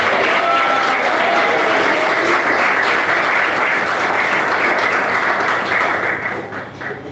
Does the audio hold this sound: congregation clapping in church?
yes